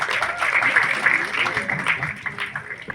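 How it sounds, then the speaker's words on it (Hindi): Audience applause at a public event for the Border 2 teaser release, a dense steady wash of clapping sustained for about three seconds with a voice faintly underneath. "एक बार जोरदार ताली चाहिए।"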